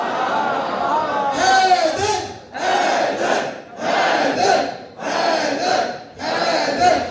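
A crowd at a Shia majlis chants slogans in loud, rhythmic unison with hands raised, five or so forceful shouted bursts separated by short pauses.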